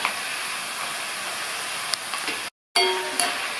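Snake gourd slices frying in hot oil in a pan while being stirred, a steady loud sizzling hiss with a brief cutoff and faint clinks of the spoon, no talk.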